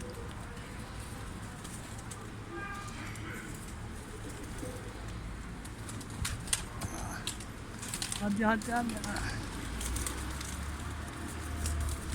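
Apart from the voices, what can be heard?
pigeons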